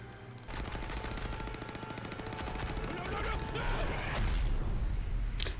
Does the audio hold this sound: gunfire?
yes